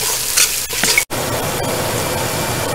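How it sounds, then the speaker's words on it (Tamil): Masala for Dindigul Thalappakatti-style mutton dum biryani sautéing in a pan, a steady close sizzle with stirring scrapes and a brief clatter near the middle, no talking. "நீங்கள் பச்சை சுமல் போகிற வரைக்கும் நல்லா வதக்கணும்"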